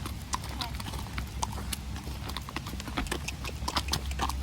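A horse walks with steady, close clip-clopping hooves during a training session, the rhythmic footfalls continuing throughout over faint background noise.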